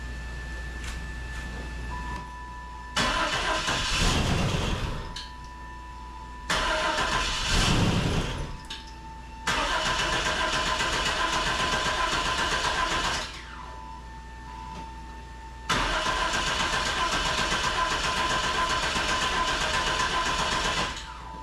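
A long-neglected third-generation Chevrolet Camaro being brought back to life: the engine cranks and catches in several separate attempts, each running briefly at a rough idle before cutting out, with quiet gaps between the tries.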